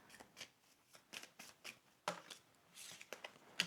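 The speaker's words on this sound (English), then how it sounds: "Okay, so I'm going to shuffle and I want one card to come out." A deck of tarot cards being shuffled, giving a run of quick papery riffles and flicks in irregular bursts, close and fairly quiet with no talking.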